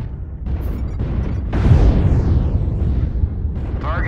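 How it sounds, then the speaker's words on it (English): Artillery strike explosions in the mech combat game MechWarrior Online: low rumbling booms swell loudly midway and roll on as a heavy sustained blast, with a brief high chirp at the start and synthetic tones near the end. "Artillery strike activated."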